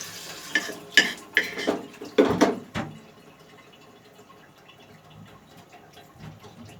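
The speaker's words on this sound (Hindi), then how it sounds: "और मेरी अम्मी ने नल खोल दिया मेरी वीडियो में।" Tap water splashes into a kitchen sink during chili pepper cleaning, loud irregular splashes and clatter in the first three seconds, then a faint steady trickle.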